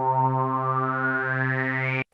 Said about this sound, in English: If you just bring up a single sawtooth and just play through that resonance